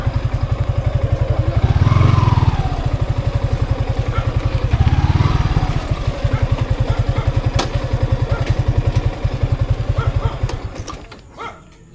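A motorcycle engine runs close by with a rapid, even, pulsing chug that swells twice as the rider revs, then fades out near the end.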